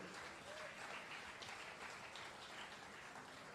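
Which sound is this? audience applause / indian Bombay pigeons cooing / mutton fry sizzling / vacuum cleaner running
audience applause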